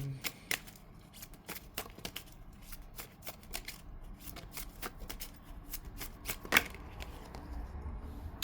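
Tarot cards being shuffled by hand in a quiet room, a quick irregular run of soft riffling flicks and taps with one sharper snap near the end.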